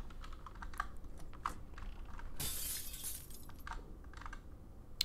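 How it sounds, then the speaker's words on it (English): Glass shatters in a room in the video game The Witch's House, a sudden bright crash of about a second, heard through faint clicking and ticking in a quiet scene. "The glass just shattered in that room."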